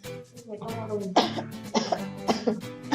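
A teacher coughing several times in quick bursts during a lesson, close and loud, with a few sharp harsh coughs and some throat sounds following a moment of speech.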